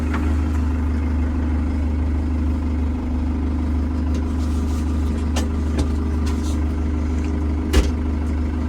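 A 2024 New Holland TR5.110 tractor engine running while driving, a steady mid-to-low engine drone heard from close by, with faint clicks and knocks over it and no talking.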